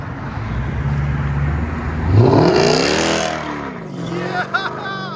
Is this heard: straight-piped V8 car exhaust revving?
yes